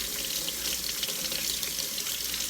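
Cold water runs steadily from a kitchen tap while boiled eggs are peeled, a continuous close hiss and splash with no break and no talk.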